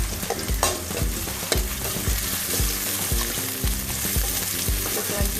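Garlic and shallots sizzle in hot oil in a pan while being cooked for rasam, a steady crackling fry punctuated by regular scraping strokes of a stirring spatula, close and continuous.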